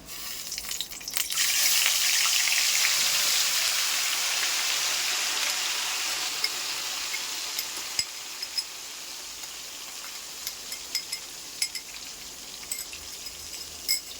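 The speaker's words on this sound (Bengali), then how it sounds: "পেঁয়াজটাকে আমাকে ভালো করে ভাজতে হবে যতক্ষণ না পেঁয়াজের কাঁচা গন্ধটা যাচ্ছে না" Onion paste fries with whole garam masala for chatpata chicken, a loud, steady hissing sizzle like heavy rain that swells early on and then gently settles, with a few faint pops and clicks near the end and no talking.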